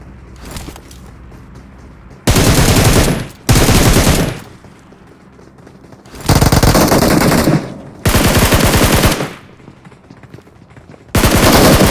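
Gunfire in a video game comes in loud, sustained automatic bursts of a couple of seconds each, separated by quieter stretches of softer game sounds, with no talk.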